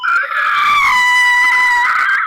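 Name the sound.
person imitating a screech by breathing inwards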